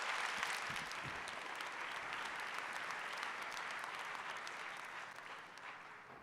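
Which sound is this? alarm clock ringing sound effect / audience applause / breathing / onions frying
audience applause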